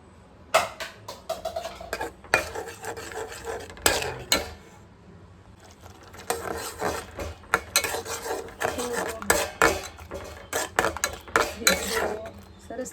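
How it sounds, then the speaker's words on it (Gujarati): Semolina (rava) roasting in a pan for prasad, stirred with a spoon: close, rhythmic scraping and clinking strokes in bursts, separated by short pauses. "આ રીતના કન્ટિન્યુ હલાવતા રહેવાનું છે જેથી રવો બેસી ના જાય."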